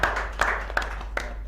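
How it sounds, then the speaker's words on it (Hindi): An audience at a Hindi poetry gathering applauding a comic poet, a few sharp, scattered claps close by in a brief burst. "जोरदार तालियों से अभिनंदन करें"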